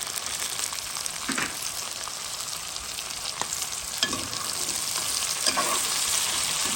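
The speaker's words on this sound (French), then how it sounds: "je vais mettre les carottes parce que les carottes c'est un peu dur pour cuire" Carrots frying with sausages in a pan, a steady close sizzle broken by a few louder crackles and stirring scrapes, with no talk.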